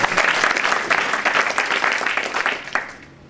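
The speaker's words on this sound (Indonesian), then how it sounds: "Kasih tepuk tangan." A church congregation applauds steadily for about three seconds during a sermon, a dense wash of clapping that fades out at the end.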